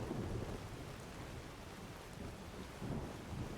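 Rain falls steadily in a Skyrim game world, with a low thunder rumble in the background; faint, continuous and even, with no voices.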